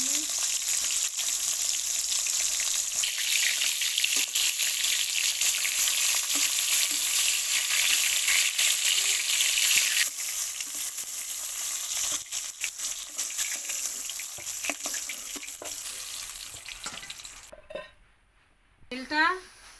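Sliced pointed gourd (potol) frying in hot oil gives a steady, loud sizzle that fills nearly the whole stretch, with occasional stirring scrapes and pan clinks before it tapers off near the end.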